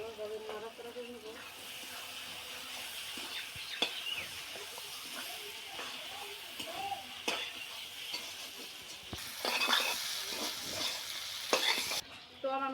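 Beef tripe stirred and fried in a pan with garam masala and cumin, a steady close sizzle broken by scraping stirs and clinks of a utensil, with a brief burst of louder frying and scraping near the end.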